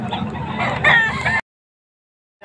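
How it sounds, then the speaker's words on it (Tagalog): Chicks and chickens at a market cluck and squawk close by in a short, lively burst that ends abruptly. "Mga sisiw."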